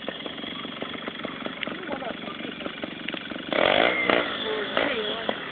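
A trial motorcycle at an outdoor riding event, its engine buzzing and revving in short rasping bursts, rising to a louder rev near the end, with people talking and shouting throughout.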